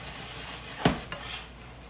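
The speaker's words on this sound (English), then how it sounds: "So now I'm just gonna stir it up" A single spoon scrapes and knocks once against a pot while cream is stirred for mac and cheese, followed by a fainter second clink in an otherwise quiet kitchen.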